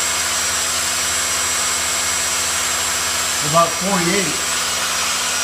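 A pump engine at full throttle, around 1,700 RPM, gives off a steady, even mechanical drone with a high constant whine, while someone speaks briefly over it near the end.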